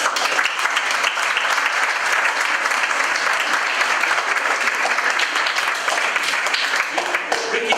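Sustained applause from an audience at a Southend celebration honoring Brian Hand, a dense, even roar of many hands clapping that holds steady at full volume throughout.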